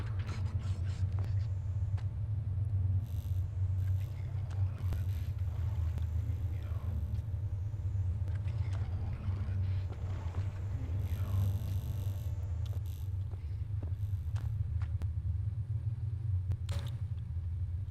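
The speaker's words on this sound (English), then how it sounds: "There's a growly monster in there." A low, continuous monster growl rumbles through a dark game scene in Hollow Body, steady and deep with faint scattered clicks and shifts above it, no speech.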